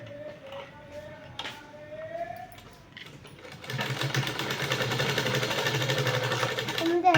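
Sewing machine stitching fabric: after a quiet stretch with someone talking and a few light clicks, the machine starts up into a continuous, fast rattling whir that runs steadily to the end, close and fairly loud.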